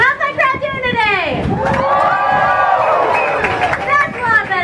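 A crowd of spectators, including children, cheering and shouting at the Gulfarium dolphin show in Fort Walton Beach, Florida, a loud, sustained outdoor roar with high excited squeals rising and falling.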